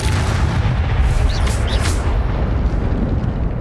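Spell-casting blasts from Hogwarts Legacy roar as a dense, continuous rumble of booming magical impacts, loud and close with no pause.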